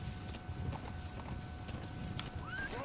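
Video game horse hooves clip-clopping at a steady gait with a brief whinny near the end, set against a low ambient rumble and faint game effects.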